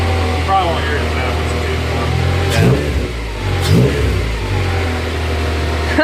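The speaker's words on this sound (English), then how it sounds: "You hear that? Yeah. Kind of like flutter noise. It's something in the intake." A car engine fitted with a Euro R engine swap revs up and settles twice, a steady mid-pitched drone with a fluttering intake, close and loud, with voices murmuring underneath.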